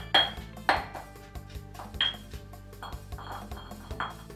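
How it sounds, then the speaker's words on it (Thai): Garlic is pounded in a mortar and pestle in a kitchen, with a steady series of ringing thuds and clinks about every half second over a low constant background hum. "จัดการเตรียมตำกระเทียมไว้สำหรับเจียว"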